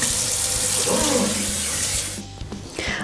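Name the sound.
water running from a tap to soak vinyl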